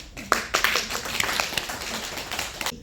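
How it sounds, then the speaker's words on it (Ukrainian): Sparse clapping from a small audience at a talk or meeting, a handful of distinct claps over a few seconds, fairly near and without voices. "Аплодисменти."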